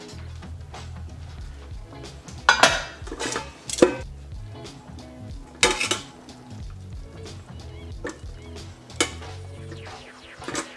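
Metal pot and utensils clank and clink at close range while chicken thighs are lifted out of hot broth, with several sharp knocks standing out over a low, steady kitchen background.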